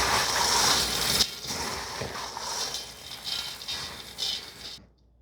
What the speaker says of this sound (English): 2 cups of mini pretzels. We're going to give this a quick toss.